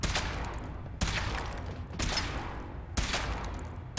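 Heavy weapon firing during a power armor suit test in Fallout 4, four loud blasts spaced about one second apart, each with a sharp attack and a rumbling decay, no voices.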